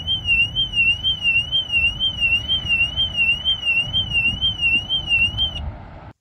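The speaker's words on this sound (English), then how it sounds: "And you can also set the alarm sound." US-version car alarm siren on a BMW, a loud, continuous warbling electronic wail sweeping up and down steadily for about six seconds before cutting off, heard alone without any talk.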